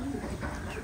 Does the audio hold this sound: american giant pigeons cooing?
yes